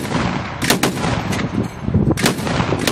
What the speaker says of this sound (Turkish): Alt tarafta yeni alınan köylerin olduğu çevreden de silah sesleri geliyor.